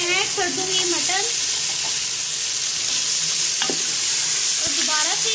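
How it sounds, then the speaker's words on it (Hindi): Mutton fries with ginger garlic paste in a pan, a loud continuous sizzle and hiss with stirring scrapes and a few brief tonal clinks of the utensil, no talking. "और इसको अच्छे से फ्राई कर लूँगी। जिंजर गार्लिक पेस्ट के बाद मैं इसमें ऐड कर दूंगी मटन"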